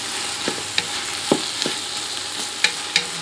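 Vegetables sauteing in a pressure cooker as the base of a fresh tomato pasta sauce give off a steady close sizzle, broken by a few sharp knocks and scrapes from stirring, with no talking.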